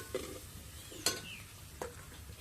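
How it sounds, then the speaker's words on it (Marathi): Mutton with ground masala being stirred in oil in a pot on a wood-fired chulha stove, with a faint steady background and a few brief scraping stirs. "छान तेल सुटेपर्यंत आपण तो व्यवस्थित परतून घ्यायचा आहे"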